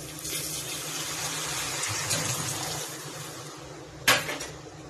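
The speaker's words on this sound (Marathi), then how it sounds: "पाणी घालणार आहे." Water hisses and gushes into a hot pan of sautéed pav bhaji masala amid steady sizzling, followed by a sharp clatter of a utensil near the end.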